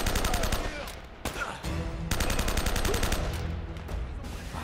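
Rapid, loud gunfire in the action game Uncharted: Drake's Fortune, heard as a dense stream of close shots broken by a brief gap, then more firing.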